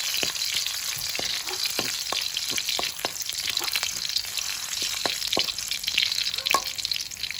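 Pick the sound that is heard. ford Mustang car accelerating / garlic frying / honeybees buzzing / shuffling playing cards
garlic frying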